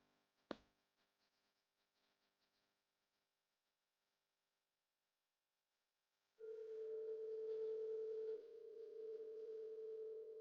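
A sharp click, a few seconds of near silence, then a steady electronic tone on a telephone line sounds alone and continuously until the end.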